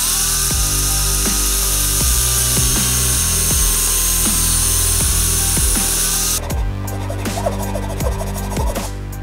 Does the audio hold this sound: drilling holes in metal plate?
yes